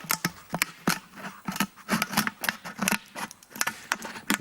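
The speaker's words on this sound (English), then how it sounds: "And then you cut in between the holes around the fat end. So just chop all the way round very carefully." Scissors chopping between holes around the fat end of a balloon, a steady run of close crisp snips and rustles, each cut distinct, in a quiet room without speech.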